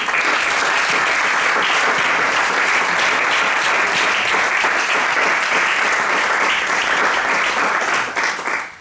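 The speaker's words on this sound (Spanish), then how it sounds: "Pido un aplauso para este rey." Loud, dense audience applause fills the room steadily for several seconds at a tribute event, then drops off abruptly at the very end.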